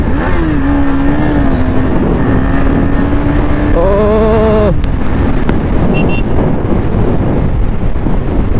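A motorcycle ridden fast on a highway near Gaurisagar, its engine note climbing and revving under heavy, steady wind buffeting across the microphone throughout.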